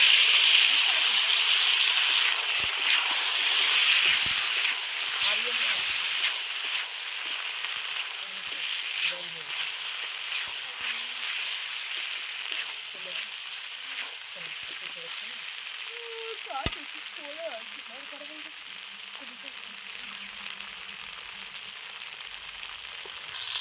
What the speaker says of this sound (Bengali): এই যে মশলা দিয়ে দিচ্ছি বন্ধুরা, আদা জিরা লঙ্কা।